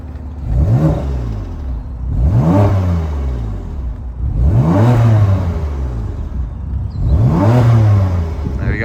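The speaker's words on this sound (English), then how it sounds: "So let's give her a little rev for you." A 2015 BMW M4 with a turbocharged straight-six engine revs four times in succession, each rise and fall a loud, close throttle blip with a brief pause in between, no talking over it.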